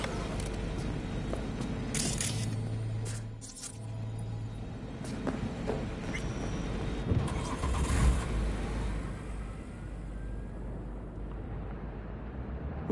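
In Cyberpunk 2077, a car drives along with a steady low engine drone and road rumble, plus a brief tonal hum and a few faint clicks partway through, at moderate loudness with no voices.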